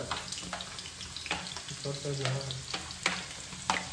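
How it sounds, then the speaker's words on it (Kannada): Onions frying in a pan for fish fry, a close steady sizzle broken by sharp spatula scrapes and stirring clicks every half second or so, with no talk. "ಈರುಳ್ಳಿ ಸ್ವಲ್ಪ ಕೆಂಪಾಗಿ ನೀಟಾಗಿ ರೆಡ್ ಆಗೋ ತನಕ ಉರಿಬೇಕು"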